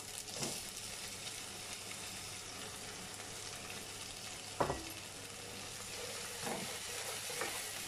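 Tomatoes go into a hot frying pan for mutton paya and sizzle steadily and faintly, with a few brief stirring scrapes and one sharper knock partway through, with no voices.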